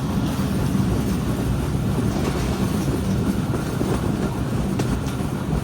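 A moving train rolls along near the Hili border crossing in Dinajpur, captured from inside the carriage at the window: a loud, steady rumble and rattle of wheels and cars that carries unbroken, with no talking.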